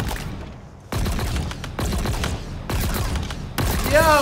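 Bursts of gunfire from a weapon in the Halo Infinite video game, loud repeated volleys in a steady rhythm of about one burst per second, close and dominant, with a brief electronic whine at the end.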